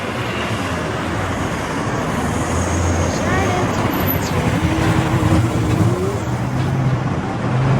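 City street traffic played as a stage effect in a school theatre play: a dense, steady rumble of cars and engines with a passing vehicle swell, loud and continuous, with no talk over it.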